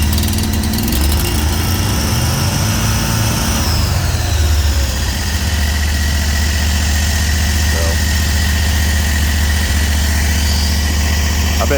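A Predator 670 engine fitted to a Hustler 980 mower, with its muffler mounted backwards, idles loudly and steadily at close range. Its low rumble is constant, and a brief shift in pitch comes early on.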